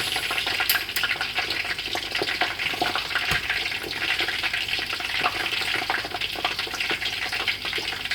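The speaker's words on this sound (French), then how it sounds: "L'huile commence à frétiller de plus en plus." Vegan accras made with eggplant and onion fry in hot oil, giving a steady, dense sizzle and crackle with a few sharper pops, close up and without talk.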